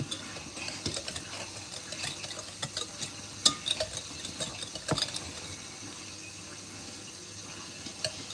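Chocolate cake batter being stirred in a bowl, with soft repeated scraping and clicking strokes and a few sharper knocks of the utensil against the bowl's side.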